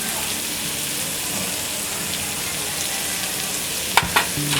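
Broken wheat (dalia) fries on a medium flame with a steady, close sizzle throughout, and a few sharp spoon clatters from stirring near the end.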